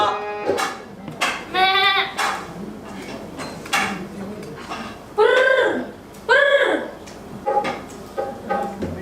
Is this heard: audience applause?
no